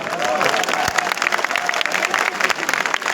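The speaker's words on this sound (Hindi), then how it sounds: "इसका हम जश्न मनाएं तालियों के साथ।" Applause from a crowd at a protest rally, a dense continuous clatter of many hands clapping fairly close and loud for about three seconds.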